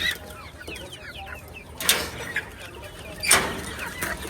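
A flock of crested and uncrested hens along with naked-neck chickens clucks in a coop, with scattered chirps and a couple of louder squawking bursts close by.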